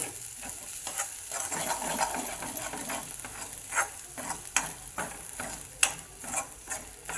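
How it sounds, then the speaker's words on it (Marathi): Homemade black masala with turmeric and mutton masala sautéing in oil in a pan over low heat, a soft continuous sizzle broken by irregular scraping stir strokes, close and fairly quiet, with no talk. "ह्या मसाल्याला तेल सुटूपर्यंत परतून घ्यायचा"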